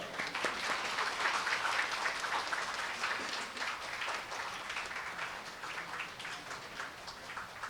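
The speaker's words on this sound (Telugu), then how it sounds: "చప్పట్లో." Applause at a church festival for the archangels at a church in Golconda, Hyderabad: a crowd claps steadily and evenly for several seconds, moderately loud and slightly distant, tapering a little toward the end.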